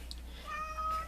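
A cat gives a short, faint meow indoors, a single drawn-out call heard alone over quiet room tone.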